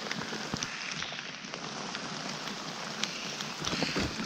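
Rain falls steadily around a fishing spot while snakeheads are being caught, making a dense, even patter on nearby surfaces with a few sharper drops and knocks and no speech.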